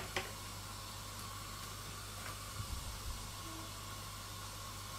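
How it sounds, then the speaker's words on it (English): A kettle coming to the boil gives a steady, faint hissing whine that carries on unchanged for several seconds in the background of a quiet room. "That horrible whining noise you can hear in the background is actually my kettle boiling"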